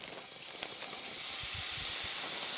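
Sliced mushrooms hitting a hot pan of golden sautéed onions, a steady close hiss that swells louder partway through and holds, with a few faint clinks at the start.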